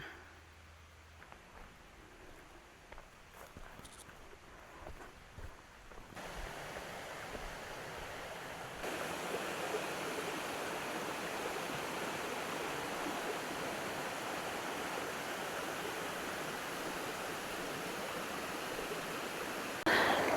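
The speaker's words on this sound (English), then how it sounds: "I can hear the waterfall going" Middle Kobble Falls in D'Aguilar National Park rushes as a steady broadband roar of falling water. It starts fairly soft and grows noticeably louder and fuller about halfway through, with no talking.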